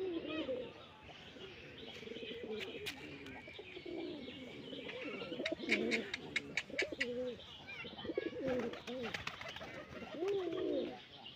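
Rajshahi Giribaz pigeons coo repeatedly in a loft, soft overlapping throaty calls with some chirps and wing flutters, fairly close, with people talking over them.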